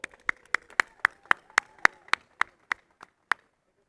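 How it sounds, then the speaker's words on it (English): Slow, evenly spaced claps ring out at an awards ceremony, about a dozen sharp separate hits over a few seconds, fading as they thin out, with no talking. "Let's give Art a round of applause as well."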